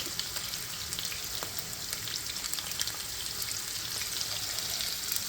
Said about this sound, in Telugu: లైట్ బ్రౌన్ కలర్ వచ్చేదాకా ఇలాగ ఫ్రై చేసుకోవాలి